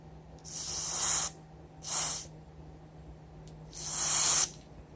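Aerosol cleaner sprayed into a Nintendo Joy-Con analog stick to fix drift, three sharp close hissing bursts, the first and last longer and the middle one short, over a faint steady hum.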